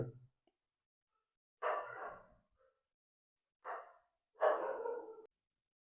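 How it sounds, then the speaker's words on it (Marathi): Dogs bark outside on a morning street: three separate short bursts, fairly loud and near, with stretches of quiet between them. "बाहेर पण ना सकाळ सकाळी कुत्रे इतके आहेत की सांगता नाही येत, खूप त्रास देत आहेत."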